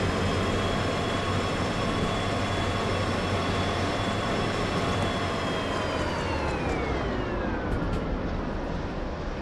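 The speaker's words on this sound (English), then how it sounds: "this train is so long that when I apply the train brake, it's going to take a lifetime to release those brakes" A long freight train in the Derail Valley simulator rolls steadily with a constant loud rumble, while sustained tonal whines glide downward near the end as the train slows, no voices present.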